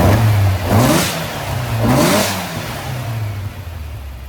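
A freshly built Volkswagen 2021cc stroker engine revs up twice in quick succession, each throttle blip rising in pitch before falling back to a rough idle, loud and close.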